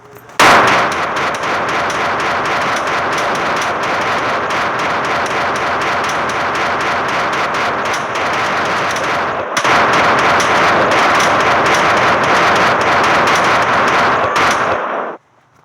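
Rapid, continuous bursts of automatic gunfire in a video game rattle loudly for most of the clip, with a brief break midway before the firing resumes and stops abruptly.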